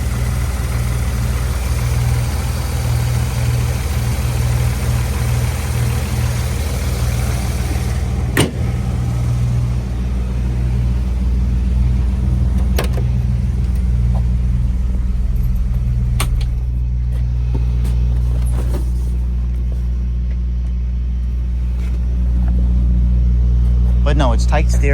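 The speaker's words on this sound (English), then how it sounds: "But she runs super smooth, drives really," A 1965 Ford Falcon with a five-speed runs at a steady low rumbling idle close by, with a few sharp clicks and knocks over the drone and a slight swell near the end.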